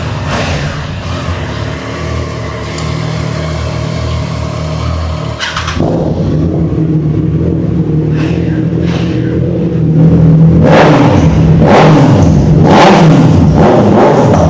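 A powerful used Kawasaki Ninja or Ducati superbike engine idles loudly up close, then revs hard in repeated rising bursts.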